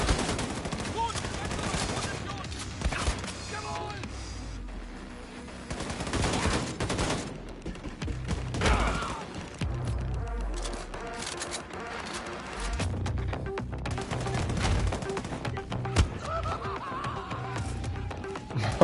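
Rapid bursts of gunfire in Wolfenstein II: The New Colossus crackle repeatedly over a busy, dense mix of game sounds, with occasional voices underneath.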